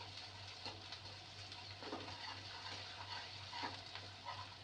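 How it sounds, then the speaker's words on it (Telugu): Onions fry in a pan with ginger garlic paste, a soft, steady sizzle with occasional stirring scrapes, faint and continuous under a low background hum. "ఆనియన్స్ ఇలా ఫ్రై అవుతున్నప్పుడు అల్లం వెల్లుల్లి పేస్ట్ వేస్తాను."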